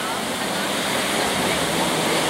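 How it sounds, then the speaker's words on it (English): Large ocean surf pounding the shore during Hurricane Sandy, a dense, continuous roar of crashing waves and wind-blown spray filling the whole clip at a steady, loud level. "that is some pretty unforgiving surf"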